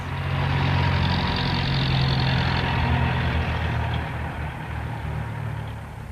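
Cars and buses arriving in Manger Square, Bethlehem: a steady, loud rumble of idling and slow-moving engines fills the whole stretch, easing slightly toward the end, with no voices.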